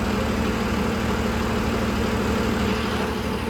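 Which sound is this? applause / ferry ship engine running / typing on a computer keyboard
ferry ship engine running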